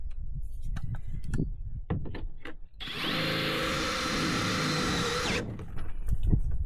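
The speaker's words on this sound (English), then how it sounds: "Now I'm going to take a self-tapping screw, go into it, and hold it securely" Power drill driving a self-tapping screw into a canoe during a repair, a steady loud whirring burst of about two and a half seconds, set between bumps and handling noises of the workshop.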